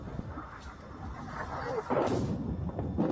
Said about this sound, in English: Huge explosion right there as the bombs continue to fall.